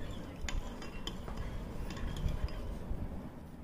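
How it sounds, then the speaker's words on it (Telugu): A spoon stirs Ugadi pachadi, a mix with jaggery, neem flowers and raw mango, giving a steady run of soft scraping and light clinks against the bowl, close and fairly quiet, with no talking. "ఇప్పుడు ఒకసారి కలుపుకుందాం"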